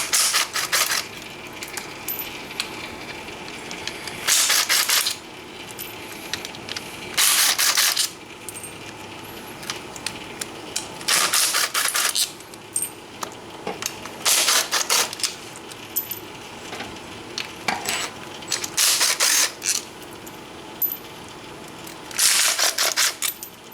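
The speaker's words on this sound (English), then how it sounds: "We can go and start loosening up the clutch cover bolts." A ratchet loosening the small clutch cover bolts on a Yamaha Banshee makes about eight separate bursts of quick, close clicking, each lasting around a second, with quiet workshop pauses between them.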